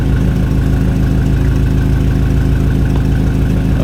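Car exhaust running through a 2.5-inch system with only a resonator gives a loud, close, steady idle drone with a low rhythmic pulse throughout and no talk.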